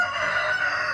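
A rooster crows close by, one loud, drawn-out call filling the whole moment with no talking.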